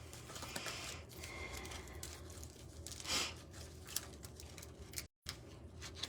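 Soft, papery rustling and riffling of tarot cards being shuffled, quiet and close, continuing steadily with a brief louder flutter partway through and a short gap near the end.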